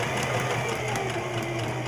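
A sewing machine on its serger stitch setting runs at a steady, fast mechanical whir with a constant hum, close by and unbroken throughout, with no talking.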